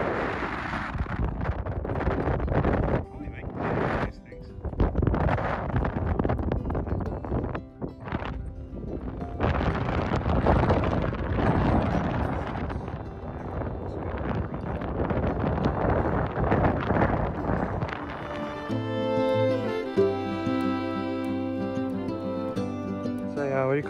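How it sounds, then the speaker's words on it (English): Strong wind roars and buffets a microphone on Flinders Peak in the You Yangs, a continuous gusty rush for most of the stretch before music takes over near the end. "Windy."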